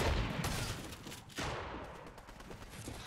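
Dense, rapid bursts of video-game gunfire crackle throughout, loud and continuous, with no talking.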